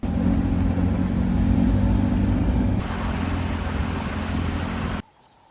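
A safari game-drive vehicle in Botswana's Okavango Delta rumbles steadily with a loud, close, low engine drone that eases slightly partway through, then cuts off abruptly, leaving near silence with no talk.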